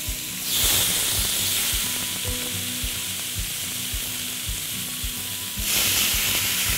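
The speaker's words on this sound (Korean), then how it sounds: "이렇게 고기가 들어갔을 때 칙 하는 소리가 나야 팬이 잘 익어진 거예요." Beef patties for a Korean grilled beef dish sizzle steadily in a hot pan, a loud, broad frying hiss that swells as each piece goes in, with soft clicks of utensils and handling beneath.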